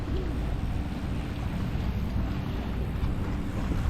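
Strong wind by the sea with big waves buffets the microphone in a steady, loud roar with low rumbling gusts, no voices.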